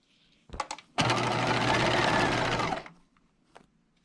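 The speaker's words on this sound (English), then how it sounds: "you're sewing at 5/8 of an inch and then back stitching" A sewing machine stitches a pocket stay onto a skirt, starting with a few short stuttering bursts and then running in one steady, close, loud whir for about two seconds before stopping.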